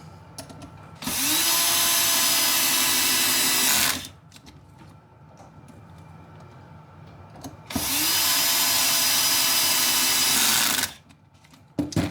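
A power tool drives the rear screws into a skid mounted on a chassis in two long, loud whirring bursts of about three seconds each, separated by a quieter pause.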